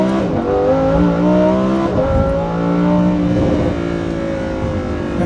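A car drives past people nearby, its engine revving loudly with rising and falling pitch as it accelerates and eases off, close and continuous, with no talking.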